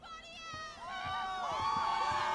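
A small-town crowd cheers in the 2025 horror film The Monkey, with overlapping whoops and rising, wavering shouts that build in level over a couple of seconds.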